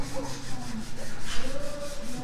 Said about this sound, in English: he's going back and he's got to sand it down